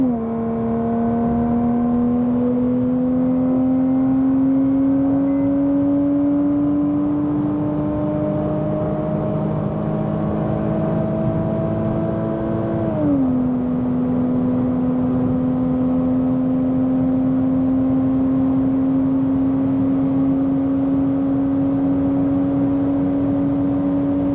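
A Porsche Cayman accelerates hard on a de-restricted Autobahn, its engine drone climbing steadily in pitch, then dropping sharply at an upshift before climbing again, loud and continuous with wind rush and no voices.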